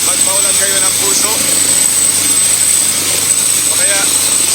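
Helicopter heard up close with a steady, loud broadband engine and rotor roar and a high whine running throughout, with faint voices underneath.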